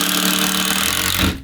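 Makita impact driver spinning in a steady, loud whir for just over a second, then cutting off abruptly, heard alone up close.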